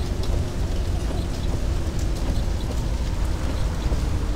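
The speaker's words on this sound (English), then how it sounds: "Oh, it's raining." Rain pours down in the video game My Summer Car, a thick, steady wash of noise that holds at a constant loudness with no voices.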